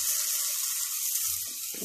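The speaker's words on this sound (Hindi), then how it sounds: "और अब जो है मैं डाल देती हूँ, ये 1 कप भर के दही है" A cup of yogurt goes into a pot of mutton stew on the stove, with a steady hiss and sizzle throughout and a few soft wet splashes near the end.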